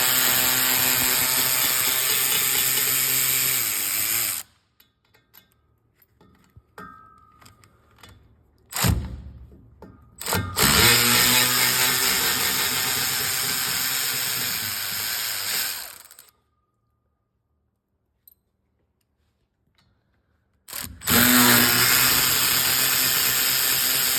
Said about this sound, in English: Now I'm going to remove the 11mm bolts on the drive shaft.